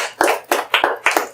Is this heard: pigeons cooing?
no